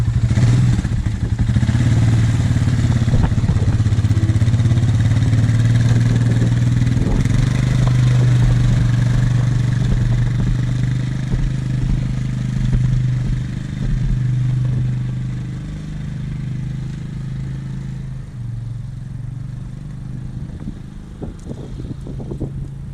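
A four-wheel drive vehicle's engine rumbles steadily up close, a low idle that gradually fades as the vehicle drives off, with faint clatter near the end.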